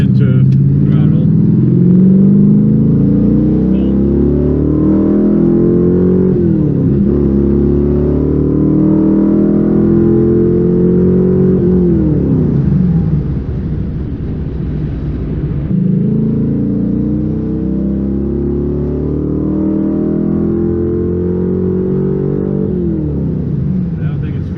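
A 1996 LT1 V8 car engine pulls hard in second gear, its loud, close drone rising steadily in pitch in several long sweeps and dropping off between them, with a voice speaking over it.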